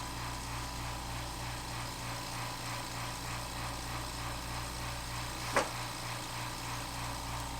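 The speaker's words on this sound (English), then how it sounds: "I got my compressor just started." An air compressor for an airbrush runs with a low, steady, pulsing motor hum at a fairly quiet level, broken once by a single sharp click.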